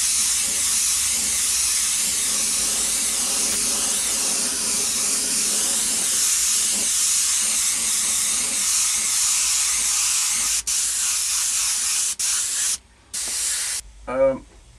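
An airbrush sprays paint onto a T-shirt, a steady close hiss running nearly continuously with a few brief cutoffs near the end and a short squeak-like burst at the finish.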